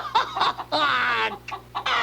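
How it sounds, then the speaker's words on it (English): Several hens cluck in bursts, close and busy, with a low steady hum underneath and no talking. "I can't think straight because of all these chickens"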